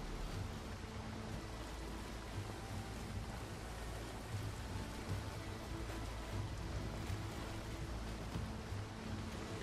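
A sailing boat crossing shallow water at night in the video game Valheim, with a steady, dense wash of waves and rushing water that runs unbroken throughout and is fairly quiet.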